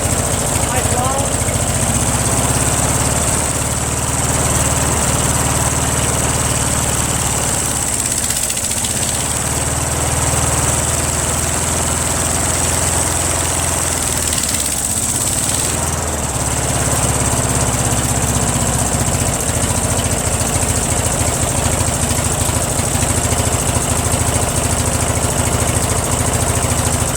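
A Briggs & Stratton opposed-twin engine with a Nikki carburetor opened up for more fuel runs steadily and loudly at close range, a continuous engine drone with brief dips in tone around the middle.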